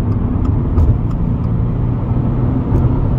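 2022 Subaru WRX engine pulling under acceleration, heard from inside the car as a steady, loud low rumble that holds throughout with slight swells, alone with no talk.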